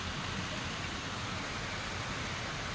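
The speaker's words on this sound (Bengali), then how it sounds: "কি সুন্দর বৃষ্টি।" Rain falls steadily outdoors where pigeons are kept, a soft, even broadband hiss with no distinct drops, moderately faint and unbroken throughout.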